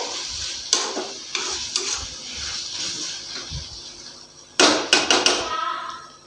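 Onion and poppy seed mixture with green chillies stirred in a frying pan, gentle sizzling punctuated by scraping strokes and a cluster of sharp metallic knocks of the spoon against the pan near the end.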